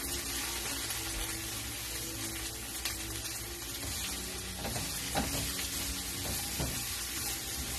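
A mixture for mini BBQ flatbreads is stirred, faint soft scrapes and clicks over a quiet steady hiss, with a few slightly louder knocks toward the end.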